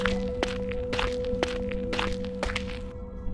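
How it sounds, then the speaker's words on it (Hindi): Slow footsteps advance toward a basement in a horror setting, a steady series of soft thuds about twice a second over a constant low hum, with no voices. "राघव धीरे धीरे बेसमेंट की तरफ बढ़ता है।"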